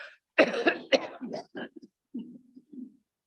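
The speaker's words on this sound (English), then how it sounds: "Give me a cough." A single person coughs several times in quick succession, close up, the bursts trailing off into softer, shorter hacks.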